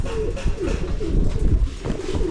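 Pigeons coo close by in soft, overlapping throaty burbles, a steady murmur from several birds with no talking.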